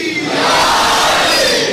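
A large gathering at a religious majlis roars back in unison after a Haidari slogan, a loud, sustained massed shout that fills the space at close range.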